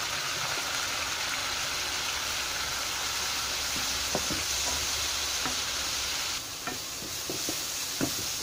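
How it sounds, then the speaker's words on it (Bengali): Turmeric and chili powder being fried with spices for a Bangladeshi poa fish bhuna, a loud continuous sizzle with a few sharp scrapes and taps of the stirring spoon near the end. "মশলা কষানো শেষ, এখন পানি দিয়ে দিব।"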